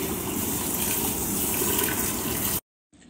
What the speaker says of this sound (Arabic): صب ماي الحار